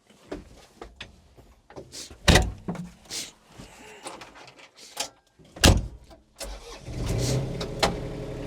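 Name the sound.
Groundhog BH25D mini-excavator running in circles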